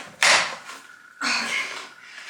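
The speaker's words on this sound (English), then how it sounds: "let's go rip off some trim" Wooden trim pried off a wall, two sharp cracking pops about a second apart, each trailing into a brief creak and scrape, close by.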